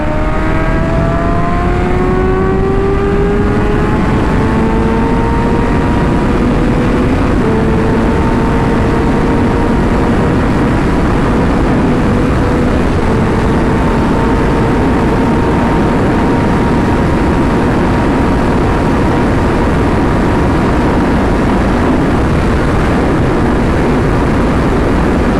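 A 636 motorcycle is ridden hard, captured on a GoPro, its engine a loud continuous roar with pitch sweeping up and down through gear changes over steady wind rush. No voices are heard.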